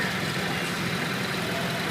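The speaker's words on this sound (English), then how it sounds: "Here's a Farmall A from 1941" A 1941 Farmall A tractor idles steadily at a parade, its low, even engine drone running on without a break and with no voices over it.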